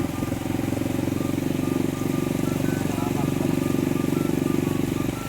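A motorcycle tricycle engine idles steadily close by throughout, with a faint beeping tone repeating in the background and people talking underneath.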